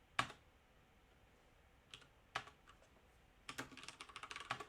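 Fast clicks of typing on a computer keyboard entering a short word, nearby and fairly quiet: one sharp keystroke, a couple of isolated presses, then a quick burst of taps toward the end.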